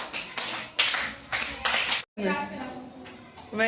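Third-grade children in a classroom clap their hands together in several loud, rhythmic bursts of claps, followed by voices speaking or chanting at close range.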